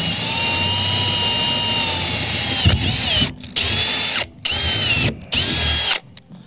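A power drill drives a bolt through a plate in loud, high whining bursts, one long steady run followed by three short pulses separated by brief pauses, close up with no talking.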